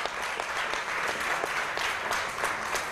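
A studio audience applauds on a Turkish talk show: dense, continuous clapping from a crowd, steady and fairly loud for the whole stretch with no voices over it.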